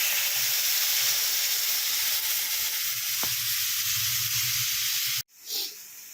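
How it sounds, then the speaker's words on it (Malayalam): Water is poured into a hot cooking pan, setting off a loud, steady steaming sizzle that hisses continuously before cutting off abruptly near the end, followed by a faint stir. "ആ വെള്ളം ഈ സമയത്ത് ഇതിലേക്ക് ഒഴിക്കുകയാണ്."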